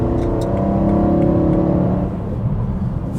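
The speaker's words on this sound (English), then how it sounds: "Gonna do a bit of Autobahn driving, so smooth acceleration" A newly built BMW E92 M3 engine pulling smoothly under acceleration on the Autobahn, its loud rising drone and tire roar close and continuous, easing slightly near the end.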